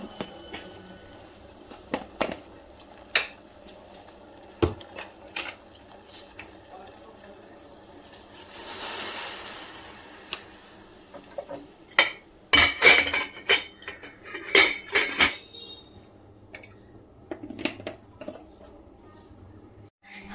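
A steel spoon clinks against a cup while tea is being made at home: sparse clicks early, then a cluster of bright, rapid clinks and taps midway, with a hiss of pouring or boiling and a voice in between.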